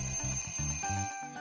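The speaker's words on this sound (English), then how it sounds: "the alarm is ringing" Toy alarm clock for a miniature doll setup rings in a rapid, repeating electronic bell pattern, bright and close, with no voices over it.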